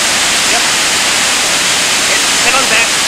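Steady broadband rush of a waterfall in Big Basin's Berry Creek canyon, with Cascade Falls, Silver Falls and Berry Creek Falls nearby, a constant roar without breaks and no voices.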